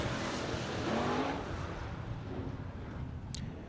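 IMCA race cars running on the dirt oval at Central Arizona Raceway in Casa Grande during a heat race, a continuous roar of engines from a distance rising and fading as cars pass, with no talk.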